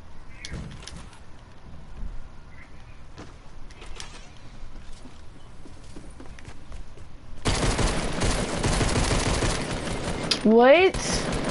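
Dual pistols firing in a shooter video game, heard as a dense burst of rapid shots late in the stretch after quieter game sounds, with voices chatting over the gameplay.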